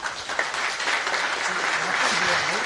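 Audience at a national final of a startup business competition claps steadily and densely throughout, with faint voices murmuring underneath.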